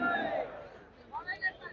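A political rally crowd at Bilaspur Police Ground shouts a chant back in unison, loud at first and then fading, followed by scattered raised voices calling out.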